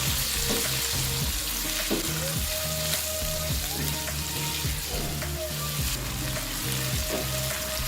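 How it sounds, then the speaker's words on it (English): Marinated chicken pieces fry in a pan with onion, a constant close sizzle broken by scraping and stirring clatter at irregular moments, no voices. "We'll now fry the chicken pieces until they are cooked."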